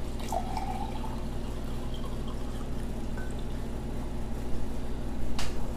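Water poured into a Lithuanian MRE ration pouch of stewed chicken with rice porridge, a soft steady trickle running for several seconds over a constant low hum, with a brief sharper splash near the end.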